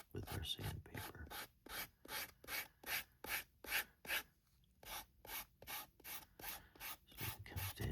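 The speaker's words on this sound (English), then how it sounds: "So we just shape these with our sandpaper." Sandpaper rubbed over the cut corners of a leather trifold pocket, a rhythmic run of about twenty short, close rasping strokes with a brief pause midway.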